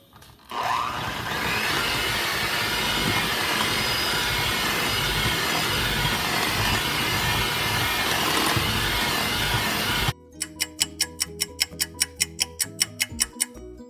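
An electric mixer creams cream cheese with sifted powdered sugar at medium speed, a loud, steady whir for about ten seconds before cutting to a ticking clock-like rhythm.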